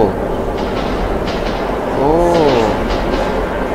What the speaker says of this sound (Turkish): Hayalet tren.